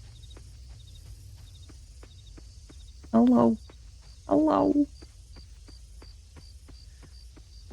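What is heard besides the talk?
crickets chirping at night in the video game Coral Island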